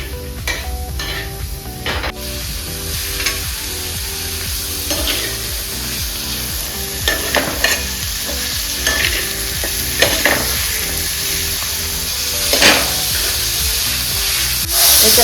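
Paneer dish ingredients, tomato among them, roast in oil with a steady sizzle while a spoon stirs and scrapes the pan in irregular clatters, close up and with no talking.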